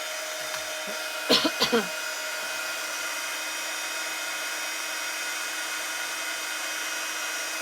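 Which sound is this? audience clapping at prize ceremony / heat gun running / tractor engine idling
heat gun running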